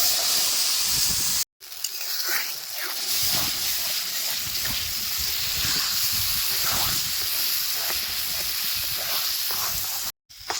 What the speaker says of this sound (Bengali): জিরা ভাজা হয়ে গেলে ডাল আর ফুলকপির মিশ্রণটা দিয়ে দেবো